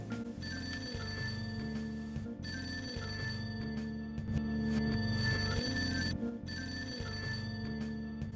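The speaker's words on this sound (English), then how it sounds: "So, I hear a ring." A phone rings in the video game Persona 5 as a repeating electronic ringtone, loud and alone, over a steady synth music loop. The ring comes in regular bursts with short gaps between them.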